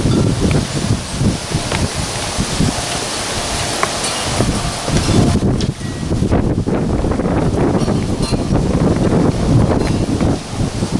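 Strong wind blows through bushes outdoors, a loud continuous roar with rustling leaves and heavy gusts buffeting the microphone.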